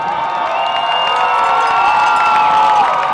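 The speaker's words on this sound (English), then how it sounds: "a big round of applause to all the bands that were out to participate today" A crowd cheers and shouts at the 2023 South Gwinnett High School Battle of the Bands, a dense, continuous roar with high whoops rising above it for the full stretch, fairly close and loud.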